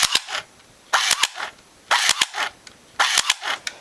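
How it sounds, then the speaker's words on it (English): A Crosman P9 electric blowback airsoft pistol fires in four short bursts of rapid snapping clicks, each burst followed by a brief mechanical rattle, close and loud. "You guys haven't seen my electric blowback pistol."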